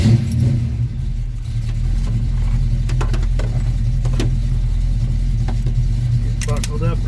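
A 1979 Oldsmobile Cutlass with a 406 small-block V8 drives down the road, its deep engine rumble steady and close inside the cabin, with a few brief clicks and rattles over the drone.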